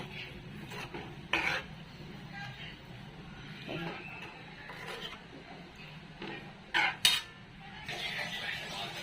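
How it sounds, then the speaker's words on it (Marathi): Chopped chakvat greens stirred into a cooking pot with a spoon, soft scraping and rubbing with a few sharper metal clinks against the pot, under quiet background noise. "आता या हाटून घेतलेली भाजी आपण चाकवताची यात वतणार आहे बघा मिक्स करून घ्यायची"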